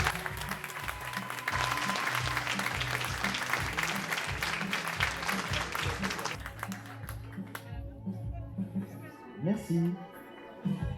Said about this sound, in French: Justine, Emeline, que l'on peut applaudir s'il vous plaît les amis.